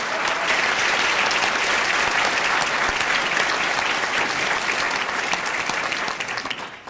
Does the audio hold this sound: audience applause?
yes